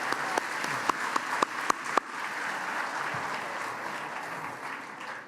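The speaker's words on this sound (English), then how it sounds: "We should clap for that as well, I think." Gala audience applause, opening with a few sharp, separate claps that quickly merge into a steady, moderately distant wash of clapping that holds without talk.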